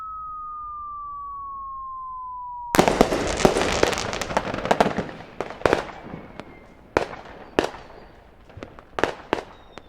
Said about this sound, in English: They're fireworks, Jackie boy.